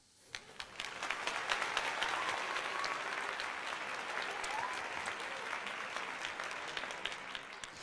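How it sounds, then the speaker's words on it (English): Applause from a ballpark crowd at a Phillies–Cardinals baseball game, rewarding a nice defensive catch; a steady, dense roar of clapping that swells quickly, holds for several seconds and stays fairly distant. "I'll give him a little round of applause for that."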